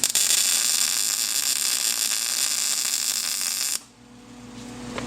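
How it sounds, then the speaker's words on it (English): A MIG welder fills rosette weld holes in flat steel at slightly raised amperage, a loud steady crackling buzz for several seconds that stops abruptly, leaving a quiet hum. "And now I need to fill those holes with weld material."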